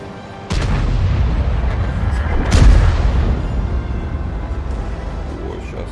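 A Lorraine 155 mle. 50 self-propelled artillery gun firing in World of Tanks, a sudden heavy boom at the start, then a second louder blast a couple of seconds later, rumbling on over dense low battle noise.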